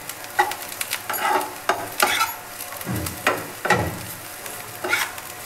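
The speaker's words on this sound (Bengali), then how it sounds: "আলু আর গাজর ভাজা।" Potatoes and carrots fry in a pan while a utensil stirs them, with repeated scraping strokes and clinks over a continuous close sizzle.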